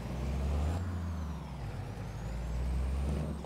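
Trucks turn around in Farming Simulator 22, with a steady low diesel engine drone, a hiss of air brakes and a thin rising whine, moderately loud and free of talk.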